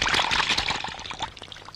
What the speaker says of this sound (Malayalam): വെള്ളം എടുത്ത് കൊടുക്കുന്നു. നേരെ അവിടുന്ന് കൈ കഴുകുന്നു.